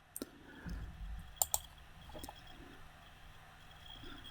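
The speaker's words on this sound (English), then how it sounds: "Just right click and delete that sheet out." A computer mouse right-click while deleting a sheet in CAD software: two or three faint, sharp clicks close by over a quiet room hiss.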